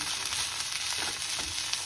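Spinach mixture for palak paneer frying in a pan, giving a steady, close hiss and crackle of sizzling that runs without a break through the short stretch, alone with no voices.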